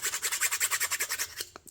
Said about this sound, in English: now I've got my little nail file and I'm just going to give it a really little light sanding